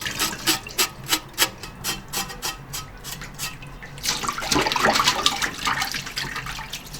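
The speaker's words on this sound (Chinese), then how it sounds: "我们还是用钢丝球搓一下。" Pork belly skin is scrubbed hard with a steel wool pad under running water: a quick rhythmic series of rasping strokes, then a louder continuous splashing rush of tap water mixed with scrubbing, close and with no talking.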